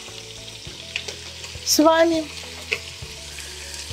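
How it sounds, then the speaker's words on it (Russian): Meat for kharcho sizzling in a hot pan, a steady low crackle that swells into a louder burst of spitting fat as pieces are stirred, with a brief voice speaking over it. "смотрим, как жарится наше мяско"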